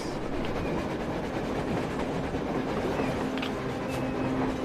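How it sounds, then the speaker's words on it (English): A train rolling past in the video game Metro Exodus, a continuous dense rumble with faint rhythmic clatter, steady and fairly loud, no talk. "A train! A damn train!"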